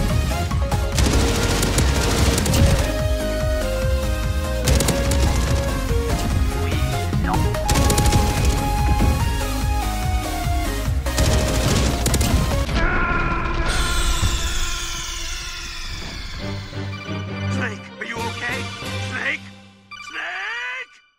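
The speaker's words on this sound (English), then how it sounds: "Rocket launcher!" Rocket launcher blasts and gunfire from Modern Warfare crash loudly through a dense, continuous battle mix, thinning into scattered impacts and sweeping effects toward the end.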